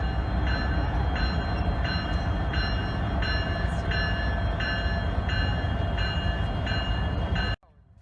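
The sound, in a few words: Norfolk Southern freight train locomotive reversing onto another track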